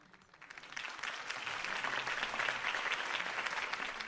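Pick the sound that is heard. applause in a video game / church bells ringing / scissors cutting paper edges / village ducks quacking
applause in a video game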